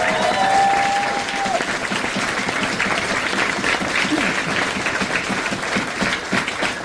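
An audience at a live concert in Santa Fe, New Mexico applauds loudly and steadily. Cheers and whistles rise over the dense clapping.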